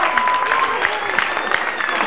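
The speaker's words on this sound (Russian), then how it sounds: "поэтому еще раз аплодисменты" Audience applause for a student KVN comedy team, a steady broadband patter of many hands clapping at moderate loudness for about two seconds, with faint voices mixed in.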